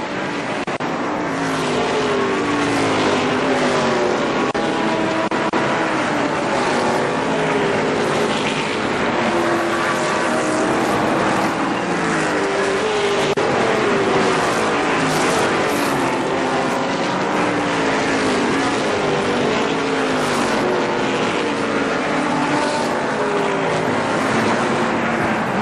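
ARCA SuperCars race around Kil-Kare Speedway in a continuous loud roar of engines, several cars blending into a dense, unbroken wash of racing noise heard from trackside.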